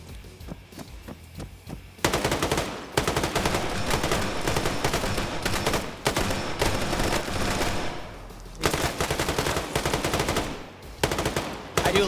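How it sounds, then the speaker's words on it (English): Sustained bursts of M249 machine gun fire in a multiplayer PvP shooter match, loud and close, rattling in long rapid strings with brief pauses between volleys. "I do love how they stole a 249 and they're pre-firing corners with it."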